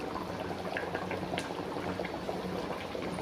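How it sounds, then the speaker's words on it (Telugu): Nellore-style fish curry boiling in a pot, a steady close bubbling and simmering with small pops, quiet and continuous, no voices. "మొత్తం చిక్కబడేదాకా బాగా ఉడకాలి."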